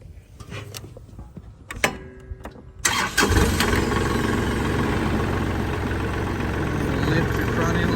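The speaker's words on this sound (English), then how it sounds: "is start the tractor." A Kubota tractor engine cranks and catches after a few clicks and clunks. It settles into a steady, rumbling idle close by.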